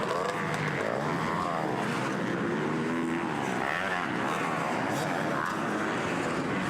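Two-stroke motocross motorcycles race in a junior final at a Ste-Julie circuit, their engines a continuous high buzzing drone that rises and falls in pitch as the bikes rev and pass, loud and steady throughout.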